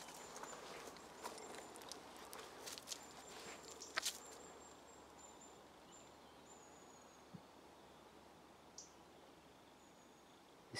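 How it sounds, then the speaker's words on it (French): Faint footsteps crunch and rustle through dead leaves outdoors by a dolmen, an irregular run of soft crackles near the start that thins out into sparse distant rustles over a quiet night background. "Marche sur les feuilles mortes."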